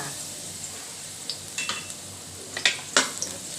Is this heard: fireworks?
no